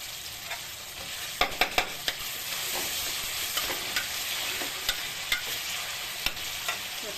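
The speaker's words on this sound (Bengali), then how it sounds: "এবার এটার মধ্যে আদা রসুন বাটাটা দিয়ে দেবো" Ginger garlic paste frying in hot oil for a rohu fish curry, a steady close sizzle with about a dozen sharp scraping clicks as a spoon stirs the pan.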